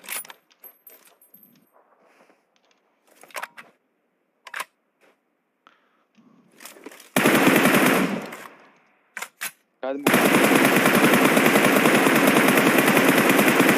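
Gunfire in the mobile game PUBG Mobile: scattered clicks and short single shots at first, then two dense bursts of loud rapid automatic fire, the second running continuously to the end.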